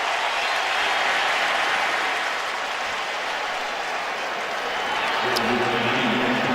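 A predominantly Crimson Tide crowd at a college football stadium, Alabama hosting Arkansas, applauds and cheers as one steady, broad roar of clapping and voices, loud and continuous throughout, with a commentator talking over the noise.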